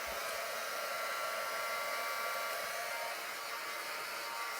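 Heat gun blowing steadily over embossing powder on a handmade card, a continuous loud broadband whoosh with a faint high whine, running unbroken throughout with no talk.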